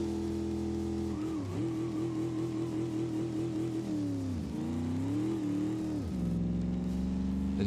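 A drag car on TA tires launches and makes a full pass, its engine note climbing hard through several upshifts with brief pitch dips between gears, loud and close throughout, with no voices.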